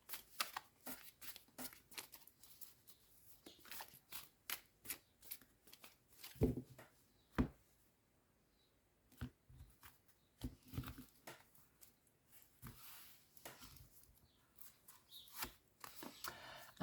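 Oracle cards being shuffled by hand: close, repeated papery flicks and riffles in irregular bursts with brief pauses, fairly soft and heard alone.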